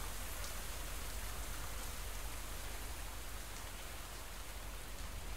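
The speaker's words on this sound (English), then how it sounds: "The rain sounds are nice too." Steady rain from the video game Wood & Weather, a soft continuous hiss of falling drops on a surface, even and unbroken throughout with no talking.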